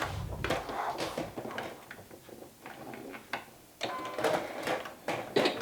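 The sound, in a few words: sewing machine stitching shoulder and side seams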